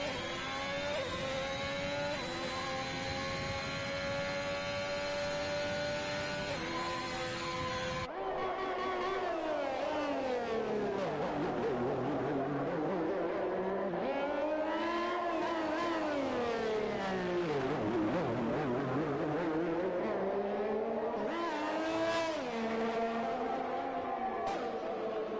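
F1 race car engines at Baku in a racing video game, a steady high-pitched whine that shifts abruptly, then rises and falls repeatedly through gear changes and braking, fairly quiet and continuous.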